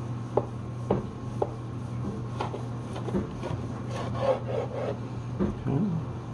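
Knife slicing thin pieces of smoked sirloin tip, giving a series of soft, scraping strokes against a board, spaced irregularly over a steady low background hum.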